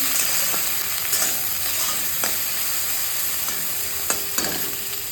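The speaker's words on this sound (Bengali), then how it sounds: "আমার পেঁয়াজটা ভাজা হয়ে গেছে" Chopped onions frying in oil in a pan for an egg and potato curry give a steady crackling sizzle, broken by a few sharp clicks and stirring scrapes, with no talking.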